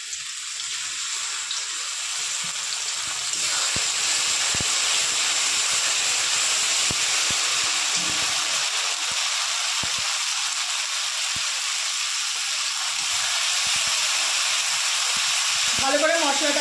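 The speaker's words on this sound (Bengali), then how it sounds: "এবার দিয়ে দেবো পোস্ত, সর্ষে, সর্ষে, লঙ্কা আর কাঁচা লঙ্কা পেস্ট।" Poppy seed, mustard and green chilli paste frying with browned onions in a pan, producing a loud continuous close sizzle with scattered pops and crackles that briefly quiets toward the end.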